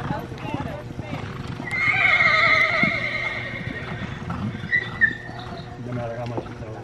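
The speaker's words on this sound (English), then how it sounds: "Save your horse, Ian." Polo horses gallop and turn during a club chukker, hooves clip-clopping and one horse whinnying loudly in the middle, while someone shouts instructions over the action.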